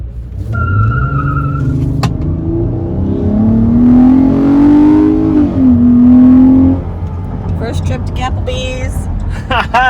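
A loud 3.8 liter car engine, box modded to sound like an NSX, revs up, holds a rising roar, then drops back, with voices close by.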